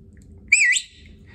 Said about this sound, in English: I use a Logan whistle and these are the four whistle commands that you need to know to understand